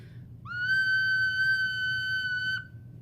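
A recorder blown gently with warm breath sounds one steady, soft, pure note that holds for about two seconds and then stops, over low background hum.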